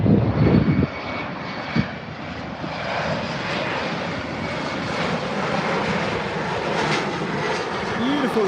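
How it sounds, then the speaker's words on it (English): A KLM Embraer E190 jet at Birmingham airport produces a continuous, even engine roar with a thin whine on top, steady for the full stretch, with a brief nearby voice at the very start. "KLM, Embraer E190 looks like."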